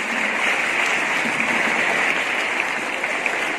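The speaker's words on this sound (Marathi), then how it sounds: "त्यांच्याच प्रतिसादाच्या स्वरूपात एका जोरदार टाळ्या वाजवणार आहे." Students in a classroom quiz give loud applause, a sustained, even wash of clapping lasting the whole stretch with no talk over it.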